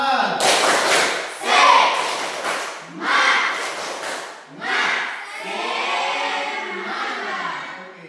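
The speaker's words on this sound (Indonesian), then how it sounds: "Tepuk semangat." A crowd does a rhythmic spirit clap as an icebreaker, with loud bursts of clapping and shouts in repeated waves that end in a longer stretch of cheering voices.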